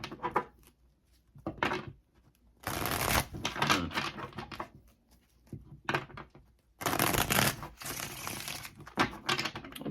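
Tarot cards being shuffled in bursts, with dense papery riffling and flapping in two long loud stretches separated by softer handling taps and quiet gaps, close up and with no talking.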